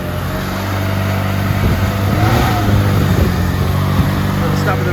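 Mini Cooper with a newly fitted brake servo pulling away on a road test, a steady low engine drone running throughout with some road and wind noise, fairly close and loud.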